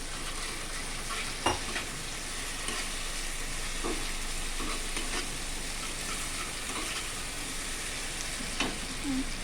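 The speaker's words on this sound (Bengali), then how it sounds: "একটু জলের ছিটে দিলাম" Water splashed into a pan of frying egg curry sets off a loud, continuous sizzle that hisses steadily throughout, punctuated by a few sharp spatters and pops, with no talking.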